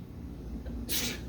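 A single sharp sneeze bursts out near the end, loud and close, after a stretch of quiet classroom room tone during a math lecture.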